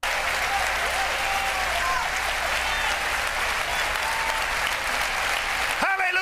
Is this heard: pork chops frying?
no